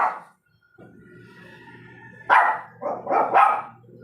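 A dog that has just given birth to puppies barks several times in quick succession, close and loud, after a quieter stretch of whimpering and low background noise.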